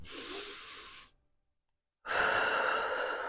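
A long, audible exhale during a seated yoga twist, then a short pause of silence and a deep inhale, close and clear with no talking.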